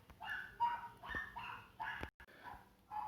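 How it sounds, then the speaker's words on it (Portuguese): A neighbour's dog barks in short repeated yaps and yips, about five or six bursts spaced roughly half a second apart, heard from a moderate distance with no talking. "o cachorro do vizinho tá latindo ali, tá fazendo muito barulho"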